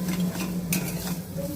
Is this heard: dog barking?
no